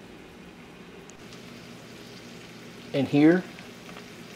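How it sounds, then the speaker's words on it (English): Jimmy Dean sausage fries in a pan with a soft, steady sizzle in the background, briefly overlaid by a nearby voice speaking. "Here I have some Jimmy Dean sausage started"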